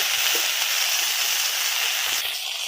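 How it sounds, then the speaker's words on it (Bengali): Dense, even crackling hiss of okra frying in a pan, close and fairly loud, with a couple of faint scrapes. "ঢ্যাঁড়স ভাজা হচ্ছে"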